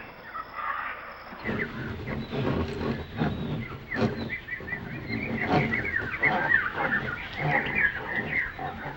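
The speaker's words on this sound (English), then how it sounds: "Parrots have a lot to learn growing up from their parents and their peers." Parrots squawk and chatter in a busy, overlapping chorus at moderate loudness, their harsh calls running on continuously without a break.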